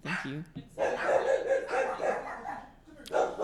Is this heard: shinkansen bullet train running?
no